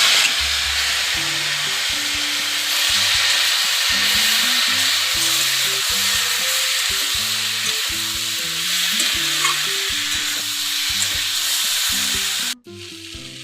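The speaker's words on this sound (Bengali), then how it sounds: "সবজির সাথে মশলাগুলো কষিয়ে নেব।" Mixed vegetables fry with ginger-garlic paste and spices in a pan, a steady loud sizzle close by, with stirring scrapes throughout and soft background music, until the sound cuts off near the end.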